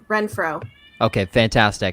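A pet cat meows loudly and plaintively several times close to a microphone during an online podcast, with people talking around the meows.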